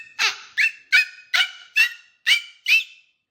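A voice imitates a hyena with seven evenly spaced, high squealing whoops, each one rising sharply and then trailing off. The calls are close and fairly loud, with no other sound behind them.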